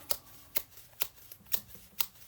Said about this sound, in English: Reshuffle half of the remaining used bot cards round up.